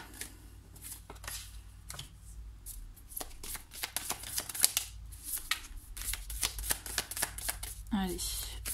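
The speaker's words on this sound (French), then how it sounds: "moi je brasse les cartes pour avoir 3 cartes pour chaque pierre" Tarot cards being shuffled by hand, a rapid run of soft riffling flicks and taps close up, with quieter pauses between bursts and a brief voice near the end.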